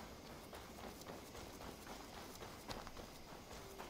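Rhythmic clip-clop of horse hooves at a steady pace in Assassin's Creed Valhalla, close and constant over a dense background of game ambience.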